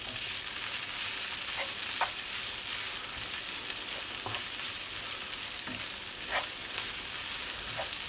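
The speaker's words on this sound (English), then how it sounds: "Give all that a mix up and let it wilt down" Spinach frying with bacon and onion in a pan, a continuous bright sizzle with occasional soft scrapes and taps as the greens are mixed through and wilt.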